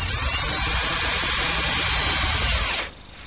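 Power drill driving 1 5/8 inch screws into wooden fence pieces in a woodworking shop, one sustained close whirring run lasting nearly three seconds before stopping abruptly.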